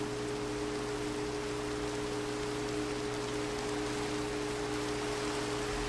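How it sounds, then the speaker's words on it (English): Steady rain falling in the video game Minecraft, a constant even hiss of rainfall with a low, soft hum beneath it, unbroken and moderately quiet throughout. "And it's raining."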